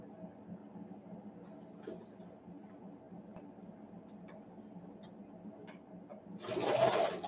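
A sewing machine runs steadily as it stitches a vintage tag onto a tucked fabric piece, a low continuous hum throughout with a louder burst of motor whir near the end; no one speaks.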